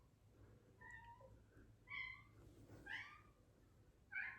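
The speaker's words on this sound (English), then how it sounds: "I have a pissed off cat outside my door" An annoyed cat meows insistently outside a door, four or five drawn-out, rising cries spaced about a second apart, slightly muffled and moderately distant.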